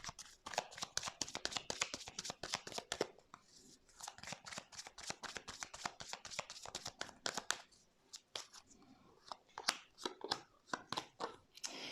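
Tarot cards rapidly shuffled and snapped down one after another in a long run of crisp riffling clicks, close and fairly quiet, with a brief pause midway and no talking.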